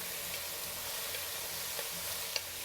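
Chopped onion and minced pork frying in a pan give a soft, steady sizzle with a couple of faint clicks of stirring, quiet and heard alone.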